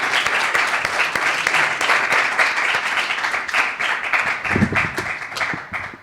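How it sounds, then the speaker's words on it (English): Church young adults service congregation applauding for Matthew, a dense burst of many hands clapping that holds steady and then thins toward the end, close and fairly loud. "should we give Matthew a round of applause anyway?"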